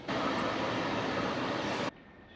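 A loud, broad rushing roar of a Tatra Electric Railway train in the High Tatras sounds up close, holding steady before cutting off abruptly, leaving a faint low hum.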